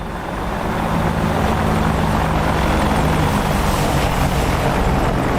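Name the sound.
AH-64D Apache helicopter flyby in video game DCS World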